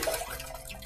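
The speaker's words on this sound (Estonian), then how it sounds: "Jah, tualetipott." A toilet flushing, part of a children's sound-guessing game: a short burst of rushing, gurgling water, close and fairly loud, heard alone.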